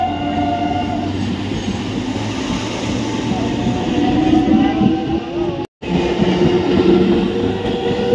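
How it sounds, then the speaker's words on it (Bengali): A local train on the Tarakeswar–Sealdah line rolls into Uttarpara station with a loud rumbling hum and rattling wheels, a brief dropout midway, and the running noise continuing steadily afterward. "ট্রেন এখন ঢুকছে উত্তরপাড়ায়"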